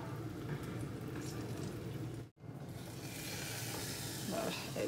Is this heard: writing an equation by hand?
no